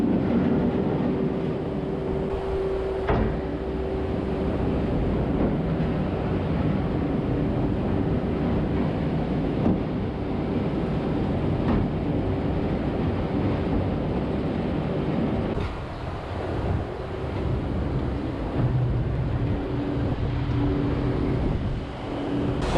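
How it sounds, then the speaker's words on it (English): Barn ventilation fans run continuously in a cattle barn, a steady broadband mechanical roar and hum with a faint tonal drone, unbroken and fairly loud, with no voices over it. "Fans are running now."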